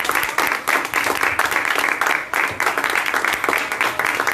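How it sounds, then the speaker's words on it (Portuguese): A church congregation claps together in a loud, rhythmic pulsing burst that stays dense and even throughout, close and filling the room. "Você pode aplaudir o nome do Senhor?"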